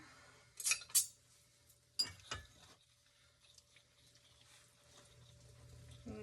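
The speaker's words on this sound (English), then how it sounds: "So I'm going to mix this with 3 tablespoons of water to start with." Flour is stirred with tablespoons of water in a bowl, giving a few sharp clinks of utensil on bowl and soft wet mixing sounds, quiet and close, with no talking.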